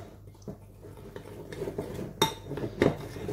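Utensils clink and scrape in a bowl while a mixture for coffee or vanilla éclairs is stirred, soft irregular taps and a few sharper metallic chinks, close and fairly quiet.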